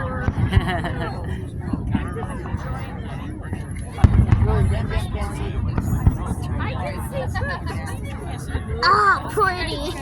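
Independence Day fireworks at Silver Lake crack and boom at a distance. A sharp burst comes near the middle, and scattered pops follow while onlookers chatter and talk nearby throughout.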